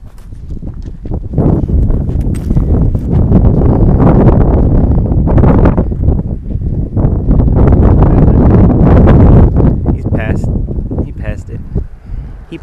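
Wind gusts across the Marana Rock disc golf course, a loud, steady roar buffeting the microphone for the whole stretch, dipping briefly before rising again, with faint footsteps beneath.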